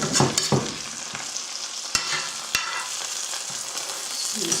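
Walleye fish frying in a pan with a Worcestershire and hot sauce mix, giving a steady close sizzle with stirring scrapes and a couple of sharp utensil taps.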